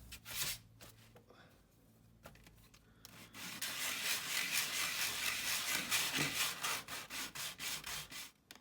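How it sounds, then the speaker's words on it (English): Close, steady back-and-forth rasping of sandpaper on the cut edge of a model railroad kit, starting with a few short strokes, then a long run of rhythmic scrubbing. "And a little sanding of the edge I just cut."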